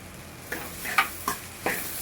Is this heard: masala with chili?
yes